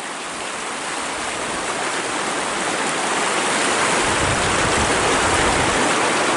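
A river in a rural Sundanese village in inland Java, heard as a steady, loud rush of flowing water. The broadband roar holds with no break and swells a little toward the end, with no voices.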